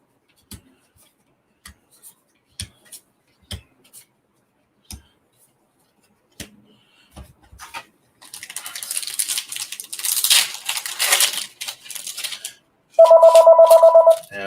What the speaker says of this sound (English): the phone's ringing while I'm doing this